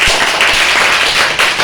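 Schoolchildren clap for their teacher in a classroom, a loud, close, dense patter of many small hands clapping rapidly throughout.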